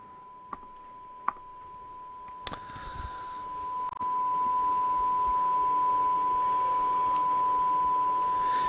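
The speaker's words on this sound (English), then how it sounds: "I've obviously got the noise coming out of the speaker, but I should be able to view the sine wave." Several faint clicks lead into a steady pure sine-wave tone from a speaker that starts and then holds unbroken and fairly loud, with no voices over it.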